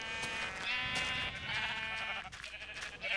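Minecraft sheep bleating in a quick wavering run, fairly loud and close against a steady game background with no talk.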